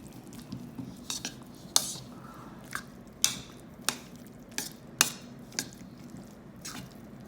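A metal spoon stirs soup in a pot, scraping and clinking against the sides in a series of sharp, uneven taps and knocks, close and fairly clear with no talking.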